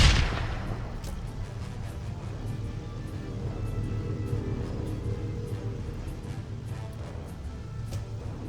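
A grenade explosion in the turn-based game Lamplighters League lands as a sharp boom at the start, then decays into a long rumbling tail of crackling debris and scattered gunfire-like pops that fills the rest of the clip.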